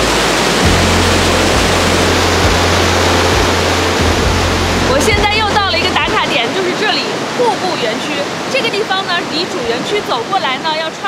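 A waterfall at Kingsey Falls, Quebec pours in a loud, steady rush, at first under a low humming drone that stops partway, after which a person talks over the water.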